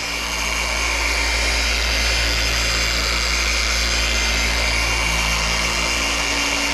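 A car polisher runs steadily on a 1962 Chevrolet Nova show car during a full detail, a constant close whirring drone with no pauses throughout.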